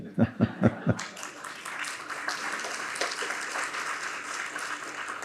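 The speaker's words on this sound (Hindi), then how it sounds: "जब मैं आया था आपकी तालियां बड़ी ढीली थी, अभी भी ढीली हैं वैसे" A school awards audience breaks into applause after a few loud, close handclaps up front, then settles into a moderate, steady patter of clapping from the crowd.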